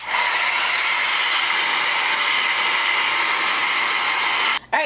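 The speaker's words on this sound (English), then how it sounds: "go ahead and take your blow dryer and heat up this aluminum" A blow dryer blasts hot air over aluminum foil wrapped around hair weave bundles, a loud steady roaring whoosh that holds evenly before cutting off abruptly near the end.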